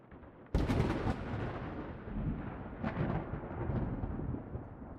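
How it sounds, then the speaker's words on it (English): A thunder roll for a horror audio drama bursts in with a sharp crack, then booms and rumbles loud and low with a few more cracking peaks, sustained alone without narration. "Another roll of thunder shook the house, and the panes of glass in the windows rattled in their frames."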